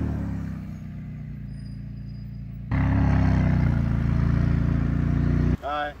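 A car arriving at a tire shop, its engine droning loud and close, swelling as it pulls in and then cutting off abruptly, with a brief squeal at the end.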